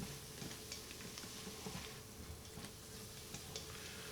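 Minced garlic and onion sautéing in an Instant Pot, giving a faint, steady sizzle with small ticks and scrapes as they are stirred, no voices present.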